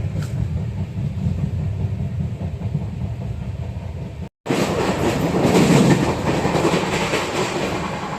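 Loud, continuous rattling and rumbling between two coaches of a moving night train on the Kamayani Express, Varanasi to Mumbai, with a brief dropout midway and no talk.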